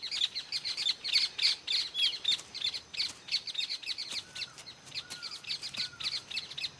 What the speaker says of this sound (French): les petits chérubins ont déjà très faim et le font savoir par des pépiments incessants